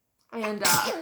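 A single close, loud sneeze from a baby boy bursts out after a brief silence, a sharp intake followed by a forceful explosive release lasting under a second.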